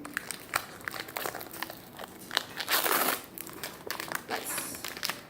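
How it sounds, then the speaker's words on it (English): A Pokemon card booster pack wrapper being torn open, with repeated close crinkling and crackling of foil plastic in short bursts and a longer tearing rip in the middle. "these packs are actually pretty hard to open"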